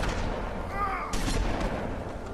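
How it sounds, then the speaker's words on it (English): Gunshots in the video game The Wolf Among Us, a short burst of sharp reports, with a louder shot about halfway through over a busy game background. No voices are heard. "Quit shooting me, you turds."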